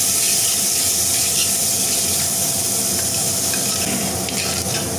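Tomatoes sauté in a pan with onions for papaya sambar, giving a loud, constant, close sizzle with faint scraping from stirring underneath and no voices.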